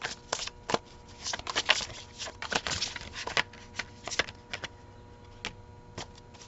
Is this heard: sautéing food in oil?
no